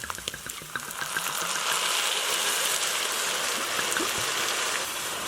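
Chianti red wine is poured into a hot pan to deglaze it while making Bolognese sauce, giving a close, continuous rushing pour that swells into a steady watery stream with faint bubbling.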